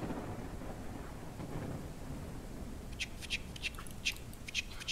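Rain and thunder in a farm video game sound as a steady rumbling downpour with low thunder, and sharp bird-like squawks break in near the end.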